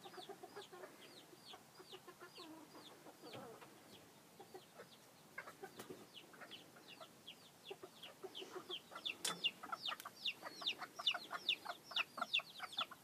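Chickens and a rooster in a dark backyard coop keep up a continuous chorus of soft rhythmic clucks and chirps that grow louder and busier toward the end, with no one talking.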